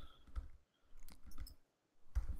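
Keyboard typing during a live online video demo, soft scattered clicks in short clusters, faint and close, with quiet gaps between bursts and no talking.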